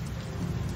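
Heavy rain falls in a steady, dense wash, fairly faint and continuous through a brief moment, with no voices present.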